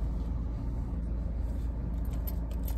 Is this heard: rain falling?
no